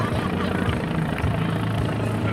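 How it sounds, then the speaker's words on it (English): A news helicopter flying overhead at a memorial 5K run, its low rotor and engine drone steady and fairly loud in the outdoor background for a couple of seconds. "It's a news helicopter, I can tell you that one."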